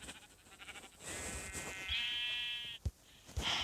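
A Minecraft sheep bleats in a drawn-out, wavering cry, with a couple of soft clicks and faint background sounds around it.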